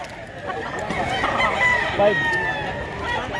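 A rooster crows once, loud and near, at a rural poultry farm in Mantalungon, Barili, Cebu, over a steady outdoor background.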